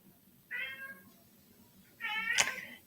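A cat meows twice indoors, a short call followed about a second and a half later by a longer, louder one, over a quiet room.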